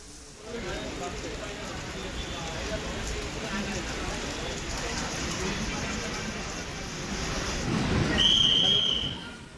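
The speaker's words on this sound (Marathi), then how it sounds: "जोरदार पावसाच्या सरी कोसळल्या आणि काही ठिकाणी रिमझिम पावसानं हजेरी लावली" Steady unseasonal rain pours down in a continuous hiss over Jalgaon, swelling a little louder near the end, with a brief high chirp over it.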